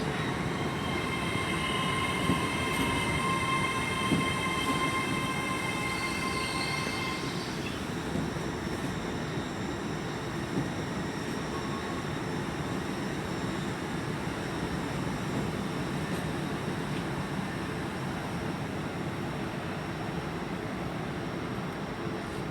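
Class 800 train 800-317 from Bristol Temple Meads at London Paddington platform 5, a steady rumbling rail roar that fills the station, with faint high tones and squeals early on, continuous and fairly loud without voices.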